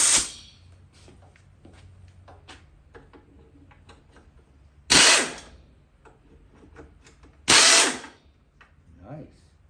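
An impact wrench hammers at the bolts of a 2002 Craftsman 21-inch mulcher with a 6.5 Quantum engine: three loud, close bursts of rattling, with faint ticking and light handling noises between them.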